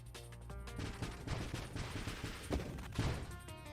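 Missile salvo unleashed in the space shooter Nova Drift, a dense fusillade of rapid overlapping blasts and pops, sustained and fairly quiet, with a few stronger hits near the end.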